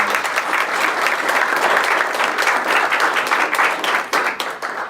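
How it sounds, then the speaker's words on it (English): An audience applauds Councilwoman Rachel Miller at a housing discrimination event in Providence, loud dense clapping sustained evenly before tapering slightly at the end. "So please a big round of applause for Councilwoman Rachel Miller."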